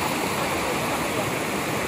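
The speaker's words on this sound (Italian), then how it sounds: "qui abbiamo beccato anche delle piccole cascate, in realtà un finiciattolo" A small waterfall and stream in the Chiang Rai countryside of Thailand give a dense, steady rush of splashing water that is close and continuous.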